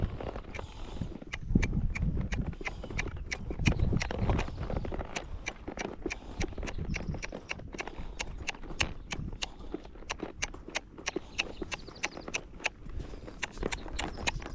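A young horse, a colt under saddle, lopes with a steady, regular rhythm of close hoofbeats that repeat throughout, alongside low rumbling movement noise and no clear talk.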